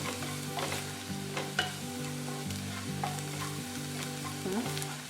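Onion sizzles steadily in hot oil in a pan for a fresh cashew bhaji, a continuous fry with occasional stirring clicks over a constant low hum.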